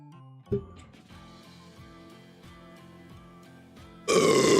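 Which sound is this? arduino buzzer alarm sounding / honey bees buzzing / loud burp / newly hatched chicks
loud burp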